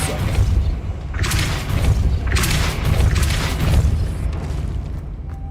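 In the Hogwarts Legacy video game, the Depulso force spell is cast repeatedly, giving loud booming blasts that surge in several waves over a constant rumbling game background.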